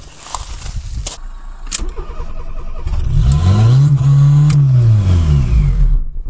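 A Fiat Seicento with a turbocharged 1.1-litre engine fires for its first start and revs loudly up and down, its engine note swelling and falling while the motor runs close by, with no talking over it.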